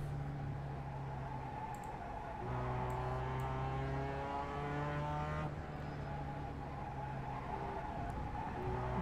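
A race car engine drones steadily through an iRacing qualifying installation lap, a sustained buzzing tone with rising and falling pitch as the driver shifts through gears, fairly quiet.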